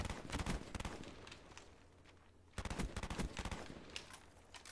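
Automatic weapon fire in a Black Ops 1 match, two rapid bursts of shots separated by a short quiet gap, close and sharp.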